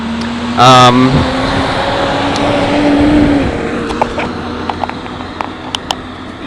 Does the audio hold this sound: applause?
no